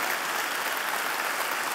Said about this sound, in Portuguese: Aleluia, você pode aplaudir,